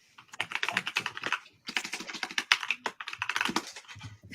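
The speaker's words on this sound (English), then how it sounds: "somebody's going hard in the paint on that mechanical keyboard" Fast typing on a mechanical keyboard with Cherry MX Black switches makes dense bursts of sharp clacks, broken by a brief pause and then resuming at full pace, close and loud.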